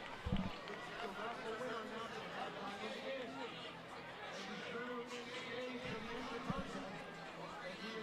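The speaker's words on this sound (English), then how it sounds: "You're starting to hear this crowd a little bit" Crowd noise at a homecoming college football game, College of the Canyons against El Camino, with a steady background hubbub of spectators and a few louder thumps and shouts, continuous and moderately distant.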